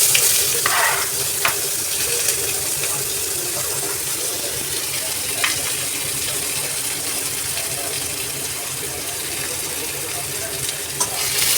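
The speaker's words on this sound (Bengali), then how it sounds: "এবার এই পেঁয়াজটা দিয়ে কালো জিরে দিয়ে আমি একটু ভেজে নেব" Finely chopped onions and nigella seeds frying in oil, a loud, hissing sizzle that holds steady throughout, with a few faint clicks of stirring near the pan.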